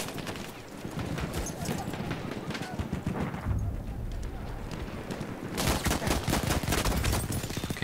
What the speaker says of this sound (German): Den haben wir mit der Pistole ausgeschaltet